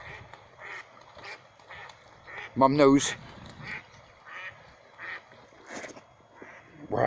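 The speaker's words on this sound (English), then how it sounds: "Look at the duck." A duck by a riverside quacks in a steady series of calls, with one louder, harsher burst partway through, while people talk close by.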